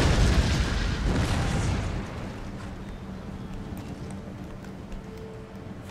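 Artillery cannon fire in Empire: Total War, a heavy battlefield boom rolling out over a dense wash of marching and hoofbeat-like rumble that thins after the first two seconds into a steady low battle din.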